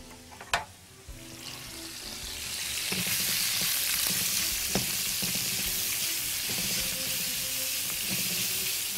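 Red onions with salt and pepper sautéing in a pan: a sharp clatter as they drop in, then a steady loud sizzle that builds and holds, with faint stirring scrapes underneath and no talking.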